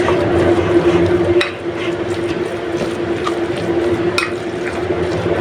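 Minced garlic worked by hand into raw chicken meat for longganisa: close, wet squelching and stirring noises that run steadily for several seconds with no pause.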